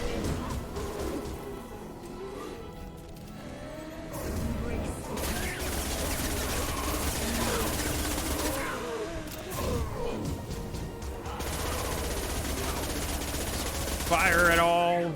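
A Mass Effect 2 shootout, with dense bursts of rapid gunfire and impacts running throughout over a continuous battle soundscape, loud and close.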